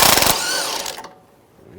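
Impact-style power tool with a 16mm socket spinning a strut bolt off a 2011–2018 Ram 1500, a loud rapid rattling burst that winds down and trails off within about a second.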